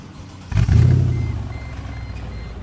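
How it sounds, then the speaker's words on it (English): A 2012 Mercedes-Benz G550 with an aftermarket exhaust turns over and catches with a deep, throaty rumble that settles into a steady low idle. "Nice little grumble at startup."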